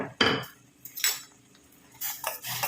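A masher works grapes in a pot: three short, close metallic scrapes and clinks against the pot, separated by quiet pauses.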